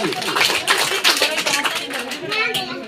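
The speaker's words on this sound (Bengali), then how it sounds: "হাততালি" Audience clapping for a prize winner at a school prize-giving, a dense, steady patter of many hands lasting throughout, with children's voices mixed in.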